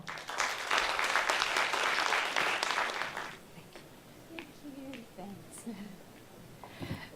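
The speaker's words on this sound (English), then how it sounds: "Everyone, a round of applause for Mrs." Audience applause fills the first three seconds as a dense burst of clapping, then fades into quieter room noise with scattered sounds.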